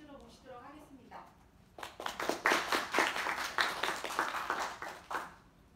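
Audience at a Microsoft education lecture for professors claps to welcome the speaker, a few seconds of dense, fairly loud applause that follows a short stretch of someone talking.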